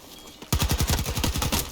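In the video game Battlefield 2042, a sudden, loud burst of rapid automatic gunfire fires off a quick, continuous string of sharp shots close up.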